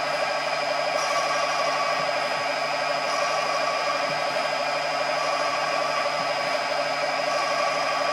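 A CNC-converted lathe threading at 740 RPM gives off a steady, dense mechanical hum and whine with a constant high tone, running continuously and fairly loud, with no talking.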